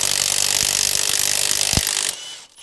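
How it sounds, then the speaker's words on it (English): Impact-style power tool buzzing off the crank pulley nut on a Ford Transit during a wet timing belt change, a loud steady close rattle that cuts off after about two seconds, with no talk. "buzz that nut out there for the crank pulley"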